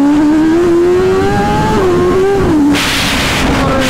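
A lightweight, powerful motorcycle engine revving hard and loud up close, pitch climbing and dipping through several pulls with a brief burst of wind noise near the end.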